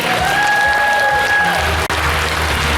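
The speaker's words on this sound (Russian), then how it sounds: "Спасибо большое, аплодисменты!" Applause fills a hall at a gala concert, a broad, loud wash of clapping with a sustained tone held over it early on and one sharp knock partway through.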